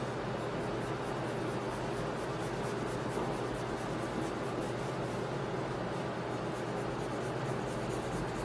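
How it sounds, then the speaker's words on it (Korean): Colored pencil scratching steadily across paper in dense, continuous strokes, layered repeatedly to build smooth coloring. The close, even rubbing runs unbroken throughout, with no voices. "자, 이렇게 꼼꼼하게 색을 칠해줍니다."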